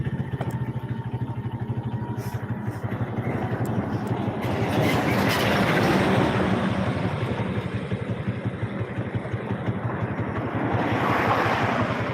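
A train rolls along the rails with a continuous rumbling roar and rapid rhythmic wheel clatter, heard from on board, swelling louder midway and staying steady throughout.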